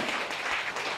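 Brief, steady applause from a studio audience on a television cooking show, a dense patter of many hands clapping at an even level.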